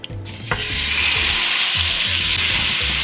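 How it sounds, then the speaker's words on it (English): Shrimp sizzle loudly in a hot pan for a jambalaya, a dense, continuous hiss that swells after a brief quiet start with a clink, steady and close. "Now cook your shrimp"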